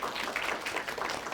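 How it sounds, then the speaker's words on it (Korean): Applause from an award ceremony audience as a securities company president is invited forward to present prizes; steady, dense clapping fills the short stretch at moderate level without talk. "박수 부탁드립니다."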